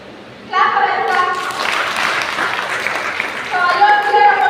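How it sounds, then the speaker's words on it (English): Classroom applause from a group of schoolchildren, a burst of clapping that starts suddenly and carries on steadily, close and fairly loud, with children's voices mixed in. "Very good. Clap for Anita."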